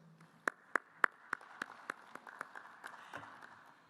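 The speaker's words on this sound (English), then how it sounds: "Another round of applause, ladies and gentlemen, for that compilation." At an industrialization conference and expo, a handful of sharp, evenly spaced claps ring out one by one, fairly close, followed by a few fainter scattered claps in a quiet room.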